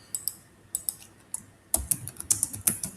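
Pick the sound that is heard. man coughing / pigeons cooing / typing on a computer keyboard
typing on a computer keyboard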